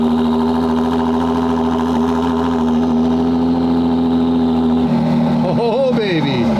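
McLaren Senna GTR hypercar engine on cold start, a loud steady high idle with a strong even hum, then a few sharp blips and revs rising and falling near the end.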